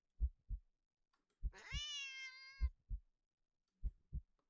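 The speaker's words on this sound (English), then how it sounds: "The cat meows at you again, but it sounds much deeper than earlier." A cat in a spooky Halloween-season game gives one long, deep, drawn-out meow, loud and alone, framed by soft thumping beats like a heartbeat before and after.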